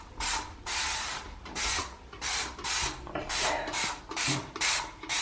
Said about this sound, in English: I have this awesome scrub brush on my drill